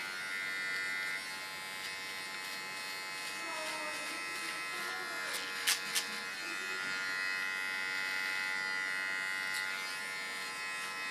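A small electric hair clipper buzzes steadily while trimming hair during a short haircut in a salon, close and continuous with a few brief sharper bursts midway and faint voices in the background.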